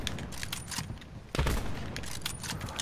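Sniper rifle fire in the video game Black Ops 4, a jump shot amid a 1v1 snipers-only match, with one heavy boom standing out among lighter clicks and mechanical rattles.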